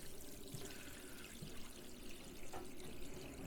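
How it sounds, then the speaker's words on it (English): Water runs in a steady, soft trickle from the faucet of a Jayco Northpoint RV, heard close and faint with a few small splashes and no talking. "all the way right there would be just hot water coming out of that side"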